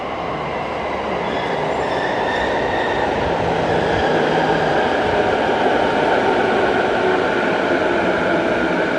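A 10-car commuter train rolls into Etchujima station on a Tokyo line, a steady loud rumble of wheels and carriages with faint squeal, continuous throughout and with no one talking.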